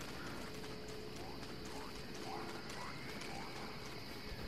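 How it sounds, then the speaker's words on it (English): A faint whinny-like creature call sounds in the video game Don't Starve. It is repeated and low in the mix, under a steady bed of game noise and clopping. "Sounds like a horse. Like a horse that's whinnying."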